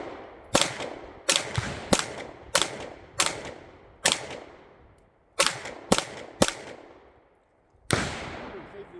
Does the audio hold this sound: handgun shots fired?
yes